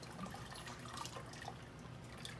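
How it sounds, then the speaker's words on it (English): Ceramic glaze pouring over the outside of a bowl and splashing back down into a small bucket, a steady liquid trickle and dripping throughout. "So what I'm going to do is I'm just going to pour the glaze"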